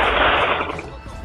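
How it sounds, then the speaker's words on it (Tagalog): A single loud gunshot fired by a deputy sheriff, a sharp close burst that quickly decays into a short ringing tail. "Kaya agad siyang nagpaputok."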